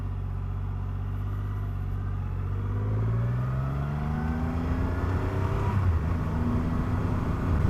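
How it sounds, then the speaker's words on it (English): A Triumph Rocket 3 R 2500cc motorcycle engine warming up after starting, a deep, steady close rumble with slowly rising pitch and a slight swell in revs, heard alone. "I felt that start. Let's let that warm up just a little bit."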